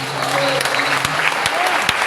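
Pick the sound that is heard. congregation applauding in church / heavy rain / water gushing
congregation applauding in church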